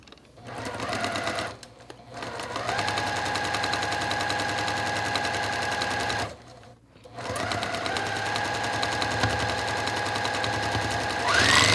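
A sewing machine stitches quilt-block seams at a short 1.5 stitch length, running in three steady, close bursts separated by brief pauses.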